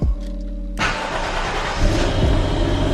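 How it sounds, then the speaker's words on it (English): A Toyota JZX100 Mark II starts with a sharp catch, then its engine runs loud and close with a steady, slightly rough idle and a small rise in revs near the end. "Mark II is running absolutely beautiful."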